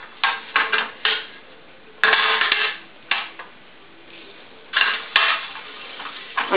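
Olive oil is brushed around a metal baking tin for spanakopita, giving close scraping and clattering strokes in irregular bursts with small metallic knocks, no voices.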